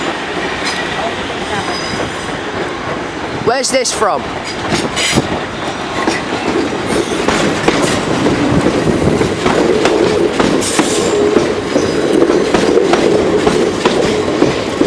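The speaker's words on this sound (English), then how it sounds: "This is the 11:34 South Western Railway service from Hull." A South Western Railway Class 450 electric train pulls into London Waterloo with rhythmic wheel clatter and faint squeals building as it nears, steady and fairly loud, while a person briefly speaks.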